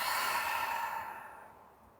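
A single long breath sighed out during a quiet yoga session, soft and close, fading away over two seconds with no talking.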